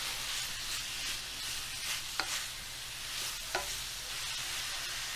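Sausage for a trout and sausage dish fries in a pan, a steady close sizzle throughout with a couple of faint scraping stirs as it is broken up.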